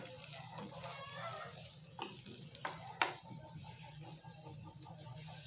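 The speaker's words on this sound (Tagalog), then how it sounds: "Una natin gisa yung sibuyas." Onions sizzling and being stirred in a hot pan for chicken adobo, a steady low frying hiss with a few sharp clinks of a utensil against the pan, no talk.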